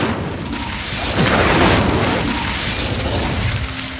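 The Incendio fire spell from Hogwarts Legacy erupts as a loud, sustained fiery roar and boom, with a burst that swells and then holds steady for several seconds.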